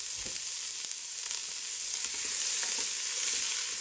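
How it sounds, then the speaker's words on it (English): Two brown onions frying in very hot, slightly smoky oil in a pan for beef stew, giving a steady, close, bright sizzle throughout with faint stirring scrapes and no talk. "I've got just 2 brown onions going in nice and hot."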